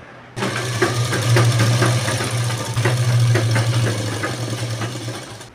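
A sewing machine runs steadily for about five seconds, stitching the lining onto a blouse, with a loud, even motor hum and a rapid needle chatter. No one speaks.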